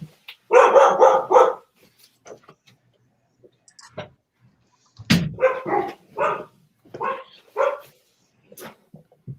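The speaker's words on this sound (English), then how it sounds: "My dogs are barking like bad." Dogs barking indoors in close, loud bursts, a quick run of several barks followed by scattered single barks and another rapid cluster, with quiet gaps between.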